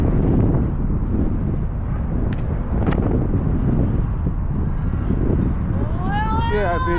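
Strong wind buffets the microphone on a freezing ride home on an electric-assist bike, a loud continuous roar with no let-up and a brief voice near the end.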